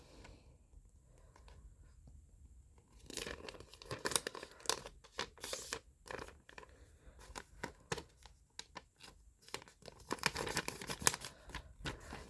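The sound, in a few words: origami paper being folded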